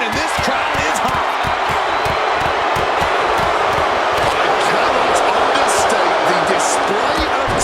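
Roaring arena crowd in the wrestling video game WWE 2K26, a loud continuous wall of cheering with sharp thuds and slams of blows cutting through, a commentator's voice running beneath.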